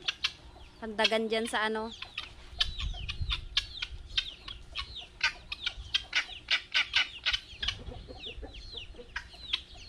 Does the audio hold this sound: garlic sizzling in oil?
no